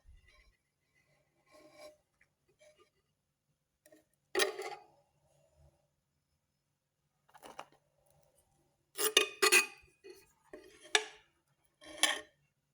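A spoon scrapes and clinks in a container while moving mealworm pupae, sparse light taps and scratches scattered across quiet stretches, with a denser cluster of clicks near the end, close and soft.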